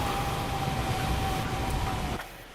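A Mitsubishi car engine in the racing game Forza Horizon 5, a loud, sustained roar with a high steady whine that drops away near the end.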